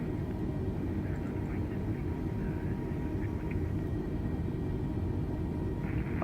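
An airliner, an A320 in Microsoft Flight Simulator, rolls for takeoff with a continuous loud engine roar and rumble that holds steady throughout, with no voices.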